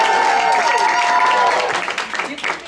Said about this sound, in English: As I say the school, let's just give a big cheer.